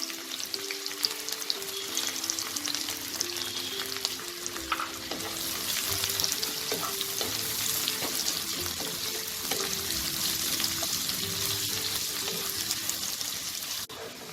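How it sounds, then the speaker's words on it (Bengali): Three large sliced onions fry in oil until browned for a Bengali mutton kosha, a continuous close sizzle with bubbling and occasional stirring scrapes, steady and fairly loud with no voices. "এটাকে আমি ব্রাউন করে ভেজে বেরেস্তা তৈরি করে নেব।"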